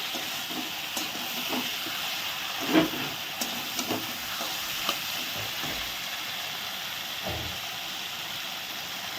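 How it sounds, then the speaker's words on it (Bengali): Mutton being sautéed (kosha) in a pan gives a steady, fairly quiet sizzle and hiss, with occasional stirring scrapes and one sharper clink near three seconds, and no voices. "মাংসটা এখন সুন্দর কষানো হচ্ছে"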